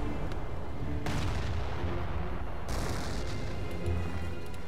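Heavy booming 88 mm artillery fire from the video game Company of Heroes: Opposing Fronts, two or three big blasts over a constant rumbling battle background.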